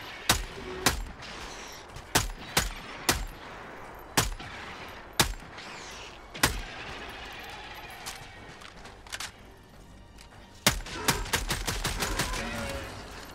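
A gun is hip-fired in a video game: sharp, loud single shots land at irregular intervals, then a rapid string of shots closes the sequence, with faint game noise between them.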